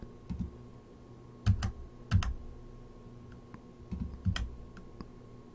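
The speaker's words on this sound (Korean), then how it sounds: "탭키 눌러서 이렇게 들여쓰기 하시면 되세요" Keys on a computer keyboard are pressed in small clusters of quiet, crisp clicks, with short pauses between bursts, close by in a hushed room.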